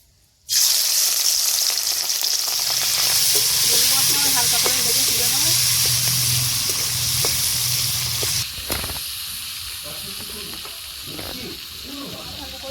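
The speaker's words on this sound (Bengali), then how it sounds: "এবার মাছগুলো ভেজে নেবো এবার কড়াই তেল দিয়ে দিচ্ছি" Prawns drop into hot oil in a wok and set off a sudden, loud sizzle that holds steady, then eases slightly, with a few spatters and stirring knocks late on.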